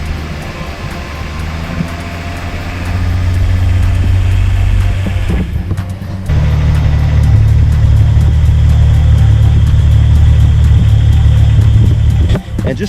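A car engine idles after a transmission swap, then gets a couple of throttle blips, its low rumble swelling loud and steady with a brief dip and a short drop near the end, no talk over it.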